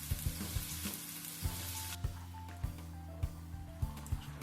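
Lote fish pieces and partly fried potatoes for a Bengali fish curry fry in a pan, sizzling steadily while a spatula stirs them, with repeated scrapes and knocks at a regular rhythm, close and clear.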